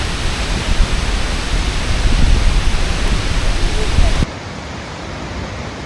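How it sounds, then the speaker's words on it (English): Skogafoss waterfall in Iceland roars as a loud, steady broadband rush from close range, continuous throughout before dropping abruptly to a quieter level near the end. "Let's get close to this waterfall."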